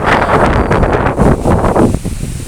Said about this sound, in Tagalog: It's windy. It's windy, windy, windy.